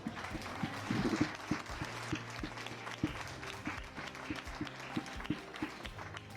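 A church congregation applauding, a steady wash of many hands clapping with scattered louder claps and some crowd murmur, fairly close and continuous.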